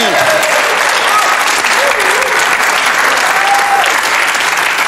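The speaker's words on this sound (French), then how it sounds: "On applaudit. Bravo. On applaudit." Studio audience applause on a French TV game show, a dense, loud, sustained roar of clapping hands with whistles and voices mixed faintly into it.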